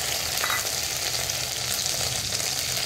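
Dense, even frying sizzle of ginger, cumin and chilli paste over fried potato and tomato fills the short stretch, loud and close with faint stirring.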